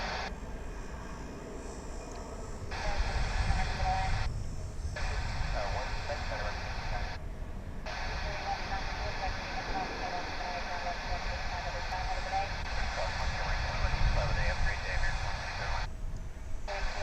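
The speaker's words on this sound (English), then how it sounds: "So here's American Flight 2506 off to Boise." An American Airlines jet departing DFW airport for Boise gives a steady, loud roar with deep rumble that swells and holds, while voices talk over it throughout.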